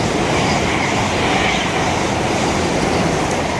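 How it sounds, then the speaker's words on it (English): A Hull Trains passenger service pulls into Retford station on the East Coast Main Line, a steady loud roar of wheels and carriages rolling close by with a faint high squeal near the end. "Arriving in now is your 1346 Hull trains Paragon service from Hull to London King's Cross."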